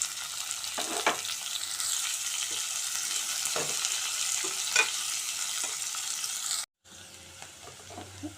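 Sliced onions sauté in hot oil with cinnamon and cloves for pressure-cooker tomato rice, a continuous crackling sizzle with occasional stirring clinks, broken by a brief cut before it resumes more quietly.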